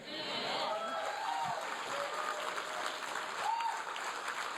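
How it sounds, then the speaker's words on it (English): Applause from a meeting audience after a closing prayer at a Texas gubernatorial forum, steady moderate clapping throughout with a faint voice passing over it. "I love it when there's an applause after the prayer."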